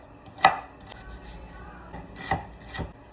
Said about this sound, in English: So let's chop up 3 large onions.